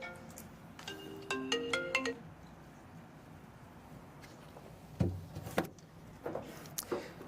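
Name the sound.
mobile phone ringtone ringing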